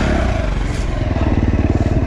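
A dirt bike engine pulls hard up close on a trail ride between Idaho City and Featherville, its loud pulsing rasp rising in rhythm as it climbs through the gear.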